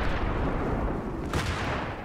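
A grenade explosion in Battlefield 3: a heavy, close, rumbling blast that fills the clip with dense low roar and a brief sharper crack partway through.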